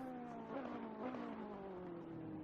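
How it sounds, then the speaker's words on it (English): A race car at Mount Panorama is heard from a distance, its faint exhaust note falling in pitch with a couple of quick downshift blips. "You can just hear the downshift blips as the exhaust note changes"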